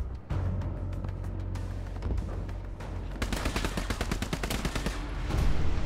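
Rifle gunfire in the Hell Let Loose video game, a dense stream of sharp cracking shots, scattered at first and then rapid and overlapping, mixing near and distant reports with no voices.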